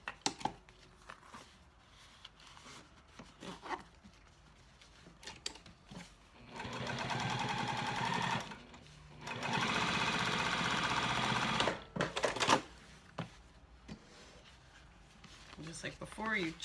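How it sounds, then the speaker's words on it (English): Home sewing machine stitching and top stitching a cork or vinyl wristlet clutch, running in two steady bursts of several seconds each, with hand handling and a voice talking before and after. "we'll go back over to the machine and top stitch, or stitch and then top stitch"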